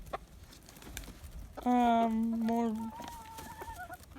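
A mixed flock of chickens, including a blue-egg layer, gives a short drawn-out squawk followed by a softer cluck, close by, with brief talking at the start.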